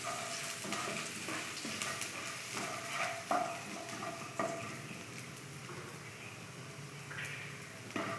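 Chopped garlic and ginger fry in a pan with a faint, low crackling sizzle, broken by occasional light clacks of a utensil stirring against the pan.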